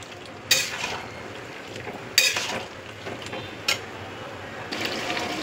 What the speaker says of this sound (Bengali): এবার আমি মশলা মেশানো পোস্তটা এর মধ্যে দিয়ে দিচ্ছি, দিয়ে এই ঝোলটা শুকাতে দেব।